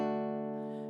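A string instrument strummed with a slightly thicker pick gives a single sustained ringing chord that fades slowly over about a second, close and clear with no talk.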